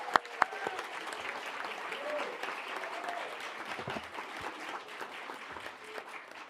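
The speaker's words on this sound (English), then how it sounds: "Family and friends, please join me in a round of applause for the class of 2026" Audience of family and friends applauding the graduating physician assistant class at a white coat ceremony, a steady wash of clapping across the hall with a couple of sharp louder claps at the start, some voices faintly mixed in.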